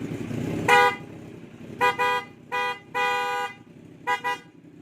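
A bright, buzzy PIAA horn on a Kawasaki Z900SE motorcycle with full exhaust honks five times in short bursts, one longer, over the bike's low idling engine nearby.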